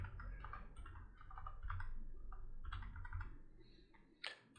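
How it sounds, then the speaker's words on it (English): Keys tapped on a computer keyboard as a terminal command is entered, making a quick uneven run of faint clicks over a low hum, close to the microphone with no one speaking. "So you just type"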